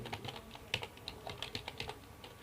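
Numbers typed on a computer keyboard during accounting data entry, a quick run of light, close key clicks at an uneven rhythm, faint and alone.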